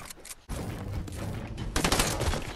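Burst SMG gunfire in the Fortnite video game, dense rapid bursts of shots crackling back to back, loud and close with a brief gap early on, no talk over it.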